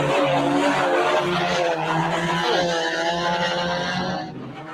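Banger racing cars at Stansted Raceway roar past close by, loud engines revving with rising and falling pitch as they drive, fading slightly at the end.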